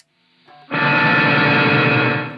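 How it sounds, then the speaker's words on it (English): A Rickenbacker 330 electric guitar chord goes through a Cathedral reverb effect. A brief faint note is followed by a loud, sustained, washy wall of sound with a long ringing tail. "So that's the Cathedral reverb."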